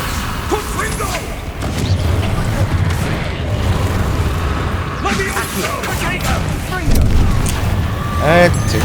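Confringo explosive spell cast in Hogwarts Legacy, with booming blasts and thuds amid busy combat effects while someone talks and shouts over the action.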